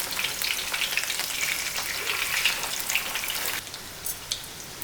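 Spicy Kongu-style fish pieces fry in hot oil over a medium flame, a steady close crackling sizzle with sharp pops, easing slightly toward the end.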